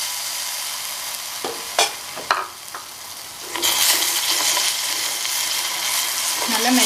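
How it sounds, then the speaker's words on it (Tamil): Sugar and water caramelizing in a pan for Kerala-style palada payasam give a loud, steady sizzle that swells into a bright, bubbling hiss partway through, with a few stirring scrapes and no voices. "இன்னைக்கு பாயசத்துக்கு கலருக்காக சுகர் கேரமலைஸ் பண்ணி சேர்த்துக்கலாம்."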